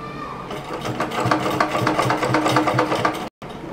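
A sewing machine stitches a frill pillow cover made from old tops, its needle running in a fast, steady rattle at close range before stopping abruptly near the end.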